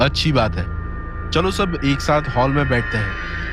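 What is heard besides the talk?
No distinct noise like a dog, phone or traffic.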